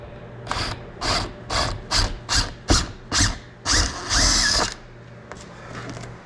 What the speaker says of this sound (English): you're gonna drill the holes underneath